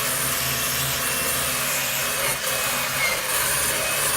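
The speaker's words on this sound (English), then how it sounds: "I'm putting very minimal pressure on the drill" A power drill whirs steadily, removing car headliner foam backing, a broad abrasive rubbing hiss that holds constant throughout with light pressure, close up and alone.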